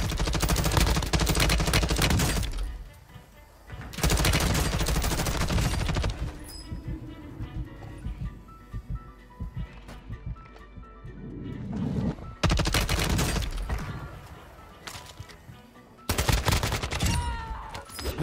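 LMG machine gun in Warzone 2 firing long sustained bursts of rapid, dense automatic fire, loud and close, broken by short pauses filled with game noise and chatter.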